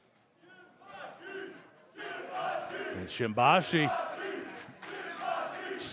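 A wrestling crowd cheers and chants in a building swell, loud and energetic, with a commentator talking over the noise throughout.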